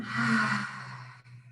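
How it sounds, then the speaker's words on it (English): A single deep, satisfying exhale during a guided breathing and qigong mindfulness exercise, breathy and close, fading out after about a second. "Satisfying exhale on the way out"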